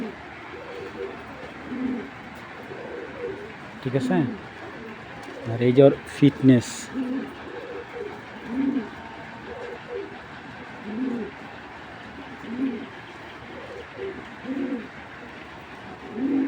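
Racing pigeons of club breeds such as Belgian and Chinese lines coo in soft, repeated low calls throughout, with someone speaking over them and a brief clatter partway through.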